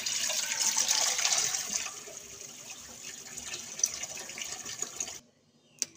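Water runs steadily from a tap into a cooking pot in a home kitchen, a soft continuous splashing that fades lower partway through and stops near the end.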